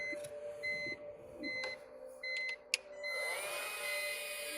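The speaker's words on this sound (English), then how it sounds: "We're gonna run our heat gun, get rid of any alcohol residue, moisture residue." A heat gun blows hot air over the badge area of a BMW to dry off alcohol and moisture residue before a new badge sticker goes on. It gives a steady, fairly quiet whirring hiss with faint tonal whines.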